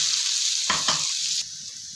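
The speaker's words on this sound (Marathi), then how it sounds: "तर इथे तव्यामध्ये तेल गरम करून घेतले आता ती चटणी आता यामध्ये टाकून घ्यायची" Chutney of ridge gourd peel dropped into hot oil on a tava, giving a loud close burst of sizzling with a couple of sharp splutters that then settles into a steady fry.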